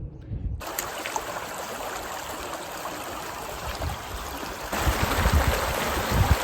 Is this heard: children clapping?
no